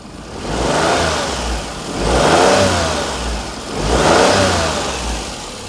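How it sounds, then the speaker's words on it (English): A Perodua Kenari car with an alternator fault runs close by, its engine rising and falling in three slow, loud revs from a low idle, with no talk. "Wow, that's quiet. Oh, that's a very low idle, Desmond."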